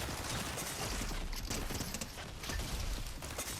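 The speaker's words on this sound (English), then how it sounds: "See that explosion? It's so useful." Dense, continuous crackle of rapid game gunfire and blasts from a goo gun in Fortnite's Havoc Hotel, a loud, unbroken barrage with bursts peaking throughout and no pauses.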